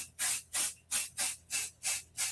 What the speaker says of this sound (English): Inadvertently sprayed the front of it.